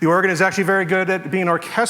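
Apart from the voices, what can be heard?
No distinct noise like a dog, phone or traffic.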